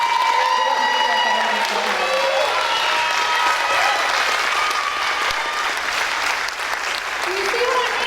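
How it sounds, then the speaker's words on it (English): An audience at a 2019 dance recital breaks into loud, sustained applause and cheering, dense clapping with shouts and whistles rising above it throughout, close and full. "she deserves a huge round of applause and a big thank you"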